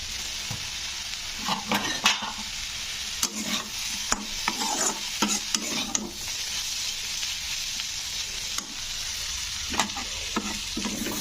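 Yardlong beans stir-fried with turmeric powder in a pan over medium heat, a constant close sizzle of frying broken by repeated scraping stirs of the spatula, no voices.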